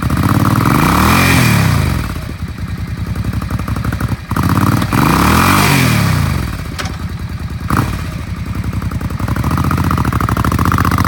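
A 2001 Suzuki Intruder Volusia 800cc V-twin cruiser engine blips its throttle in two rising, falling revs separated by a lumpy idle, loud and close, with a couple of sharp clacks.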